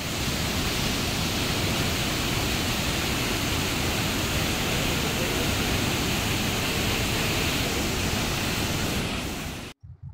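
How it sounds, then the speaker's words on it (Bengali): A waterfall in Pokhara roars steadily and loudly, a dense continuous rush of falling water that cuts off abruptly at the end. "চলো কিছুক্ষণ আমরা ঝর্ণার আওয়াজটা শুনি।"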